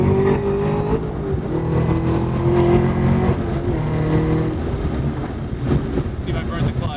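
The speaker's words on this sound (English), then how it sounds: "this is me trying to practice quick shifting" A 650-horsepower manual Chevrolet Camaro ZL1 1LE accelerates hard, its engine droning and revving through a quick gear change, with wind buffeting the microphone and a voice now and then.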